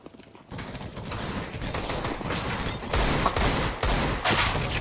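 P250 pistol fire in a Counter-Strike: Global Offensive match, heard as a fast run of sharp gunshots and clattering shots over game ambience, some louder and closer and others more distant, without any talking.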